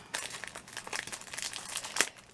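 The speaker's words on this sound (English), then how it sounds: "I have to undo all the packaging because I only want to show you one." Plastic packaging on a craft kit is pulled open and rustled, a quiet burst of crinkling and crackling with a sharper crunch near the end.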